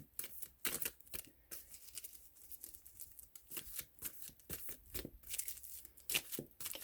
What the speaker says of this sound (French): Je vais seulement piger 3 cartes ici et on va terminer le tirage.